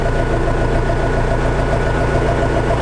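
A DTZ 504 tractor engine running while the tractor drives slowly: a steady, loud, low throbbing diesel drone with a regular rhythmic pulse, continuous throughout and close up, with no talk.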